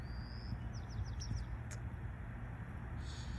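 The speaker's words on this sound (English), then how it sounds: "Oh, do you hear the bird?" Short bird chirps and whistled notes outdoors, faint and brief over steady background noise, with a few quick repeated tweets.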